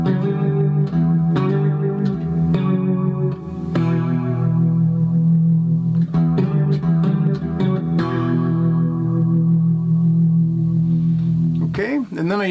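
A 3-string cigar box guitar plays slowly through effects, with a sustained, heavily processed electric tone, picked notes and chords ringing one after another, then a warbling bend at the end.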